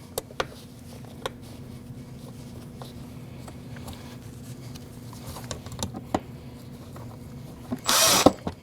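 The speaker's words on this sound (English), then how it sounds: "put your screws in your holes and tighten them down" Screws are driven in to tighten a fuel pump cover on a 2014-2023 Jeep Cherokee: scattered small clicks and ratcheting ticks, then a brief loud buzz of a power driver near the end.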